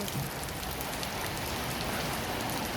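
Rain falls against a window and runs down the glass in a dense, constant hiss of drops and patter that stays close and even throughout, with no voices.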